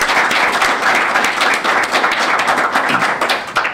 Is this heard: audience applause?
yes